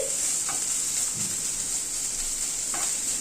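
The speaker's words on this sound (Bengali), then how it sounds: "রসুনটাকে দিয়ে একটু ভেজে নিচ্ছি" Garlic paste frying with onions in oil for fish chops, a steady moderate sizzle with a few soft stirring knocks and scrapes.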